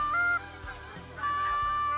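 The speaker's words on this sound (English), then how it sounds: "we are absolutely surrounded by geese" Geese in a flock honk close by during a goose hunt, a few loud calls separated by brief quieter gaps, no talking.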